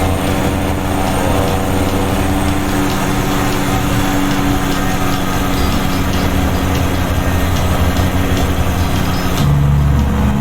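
Steady, loud drone of a Cummins N14 truck engine in a truck-driving video game, a continuous low rumble held throughout with a slight shift near the end and no voices.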